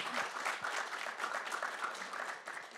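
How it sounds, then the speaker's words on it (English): An audience at the Indian Film Festival of Melbourne gives a round of applause, a dense, even patter of many hands sustained for about three seconds, moderately distant and with no talk over it. "Please give him a big round of applause"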